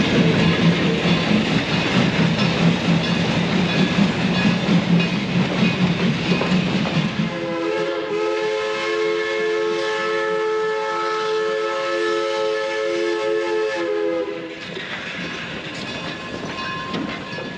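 Steam locomotive No. 482 rumbles and chugs nearby, then lets out a long steady whistle for several seconds before the chugging continues.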